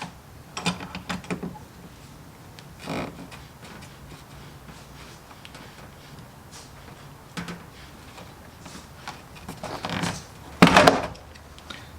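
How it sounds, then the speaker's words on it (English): Cleco clamps come off a freshly drilled panel one at a time, each giving a sharp, close click or snap, spaced irregularly over a quiet background, with a louder cluster of clacks near the end. "We're going to pull the Cleco clamps back off."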